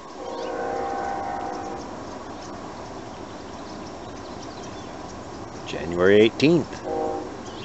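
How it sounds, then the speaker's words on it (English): A train passes in the distance during a late-afternoon outdoor moon viewing, with a faint rumble and a horn blast sounding near the end while a person speaks. "Hear the train?"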